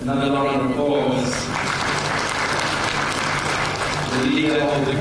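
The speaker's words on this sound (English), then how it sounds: "Another round of applause." Applause from an audience at a Botswana Stock Exchange mentorship graduation ceremony, a sustained wash of clapping across the clip, with a speaker's voice over a PA at the start and end.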